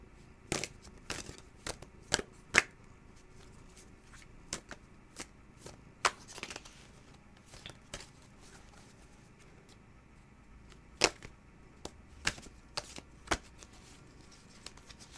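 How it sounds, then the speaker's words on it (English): Quiet, irregular riffling and soft snaps of tarot cards being shuffled, with scattered sharp bursts over a low steady background hum. "Sorry if the shuffling gets a little loud."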